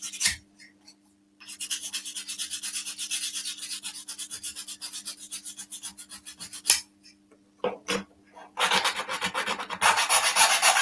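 A rasp scrapes back and forth across wood in rapid rhythmic strokes, close and loud, with short pauses between bursts of filing.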